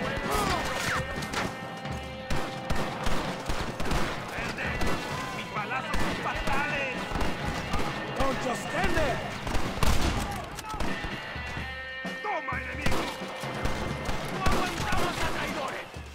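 Pistol gunfire in the western game Red Dead Redemption, sharp cracking shots and impacts scattered through a busy mix of music and effects, with someone talking over it.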